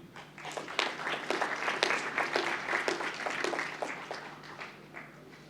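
Audience applause for graduates at a university of London presentation ceremony in a hall, a moderate spread of individual hand claps building and thinning out, with a low steady hum beneath.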